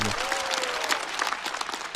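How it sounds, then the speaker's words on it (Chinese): A stand-up comedy audience claps and cheers in a dense burst of applause, filling the room loudly, with a brief voice heard at the very start. "再次掌声送给小四爷"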